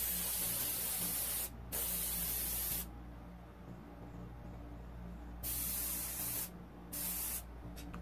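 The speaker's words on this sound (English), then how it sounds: "when you use your airbrush, you're hoping there'll be some really gorgeous colors underneath to brighten things up" An airbrush sprays acrylic paint in a series of steady hissing bursts, some long and some short, close to the mic, with brief pauses between them and no talking.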